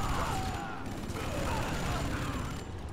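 Gunfire in the Command & Conquer 3 Tiberium Wars video game: a dense, continuous fusillade of crackling shots that rattles steadily at an even, fairly loud level.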